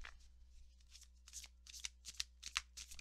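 Large tarot cards shuffled by hand up close, a quick series of soft riffling and slapping strokes that grow sharper toward the end over a quiet background hum.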